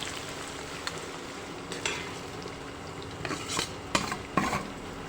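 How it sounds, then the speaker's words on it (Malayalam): Two large, finely sliced onions fry in oil in a pan, giving a soft steady sizzle broken by a few quiet stirring scrapes toward the end, with no talking. "ഈ എണ്ണയിലേക്ക് നമുക്ക് ഈ ഉള്ളി ഇട്ട് കൊടുക്കാം"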